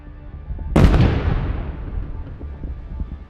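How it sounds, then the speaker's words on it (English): Landmine blast under a Russian tank in a chain explosion: a single deep, heavy boom that bursts suddenly and rumbles away over a few seconds, with no talk. "causing a chain explosion"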